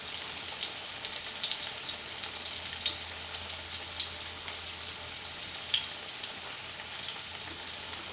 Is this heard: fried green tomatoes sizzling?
yes